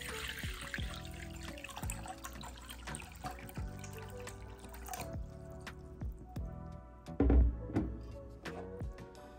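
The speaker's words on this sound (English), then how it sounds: "I'm using cold water." Cold tap water running into a sink to wash a silk scarf, a continuous splashing trickle with scattered drips and a few louder sloshes near the end, fairly faint and close.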